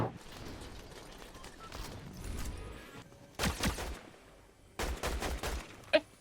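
Gunfire in a battle royale shooter, a few sharp bursts of shots cutting through quieter stretches of mechanical clicking, with one brief crack near the end.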